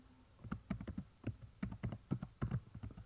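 Keys clack on a computer keyboard in quick irregular bursts of crisp, close taps, a short word typed out with small pauses between groups.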